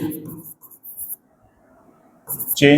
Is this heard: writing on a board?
yes